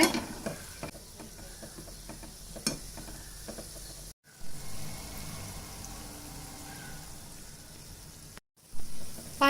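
Gulab jamun frying in oil, steady soft sizzling and bubbling close by with occasional light scrapes as the balls are turned, broken by two brief silent gaps.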